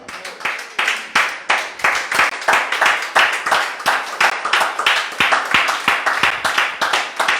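A church congregation claps in unison to acclaim the Lord, a brisk, steady rhythm of sharp hand claps that carries on without a break, loud and close.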